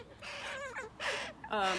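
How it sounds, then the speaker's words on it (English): Young crows being cared for at a wildlife rehabilitation center give loud, raspy caws in three close bursts. The calls overlap and come from nearby. "So these are our baby crows that we have in care right now."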